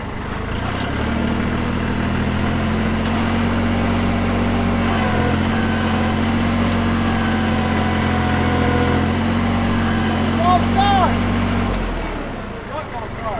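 A Chevy R30 dump truck's engine catches after a second and settles into a steady, droning idle close by, running evenly for about ten seconds before cutting off near the end.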